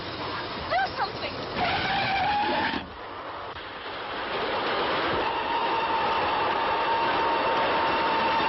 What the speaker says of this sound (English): Yes, but it's right across the track. What? Yes, look. The train.